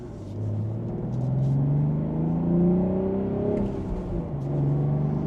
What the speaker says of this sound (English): And from first gear, we can give it a minor acceleration.